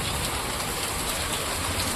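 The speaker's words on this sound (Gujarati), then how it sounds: "આને કહેવાય બિન બોલે વરસાદ" Steady, dense rain pouring down, an even hiss of drops with no pauses.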